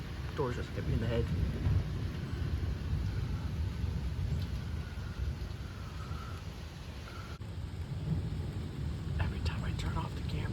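Steady rain hisses throughout with low, rumbling thunder rolling underneath, a continuous stormy wash with a few faint voices murmuring in the background.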